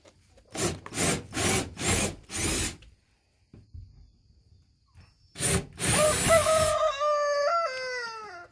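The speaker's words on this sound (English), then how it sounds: "we got the old trusty Sawzall out here and we're gonna cut this opening" A Sawzall reciprocating saw cuts an opening in a wooden chicken coop wall: several loud rhythmic sawing strokes, then a pause, another burst of cutting, and a wavering tonal whine at the end.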